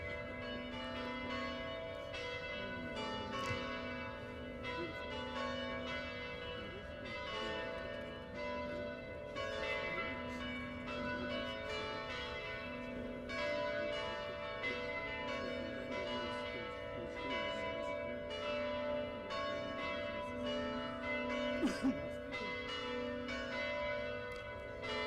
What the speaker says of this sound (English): We have church bells for Tyler.